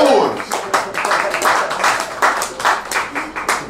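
Audience at a stand-up comedy show claps in a steady burst of applause, clustered hand claps overlapping across the room and carrying on briefly at fairly loud level.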